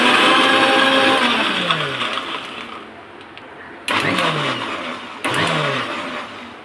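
Kitchen blender on pulse mode blending chilled milk with chocolate syrup for an Oreo milkshake, heard as three loud whirring bursts that rise and fade, with short gaps between pulses.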